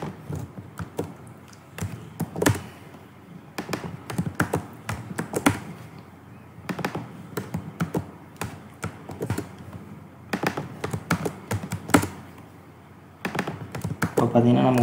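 Typing on a computer keyboard: irregular bursts of close, crisp key clicks separated by short pauses, while a person speaks throughout.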